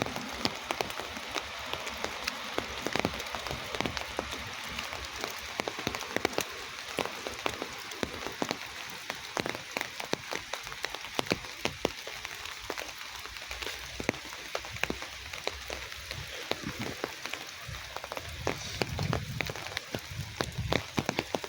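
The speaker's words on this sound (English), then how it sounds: "Oh, the rain is letting up now." Steady rain patters through the woods in a continuous dense hiss, with scattered sharper drips and drops striking close by.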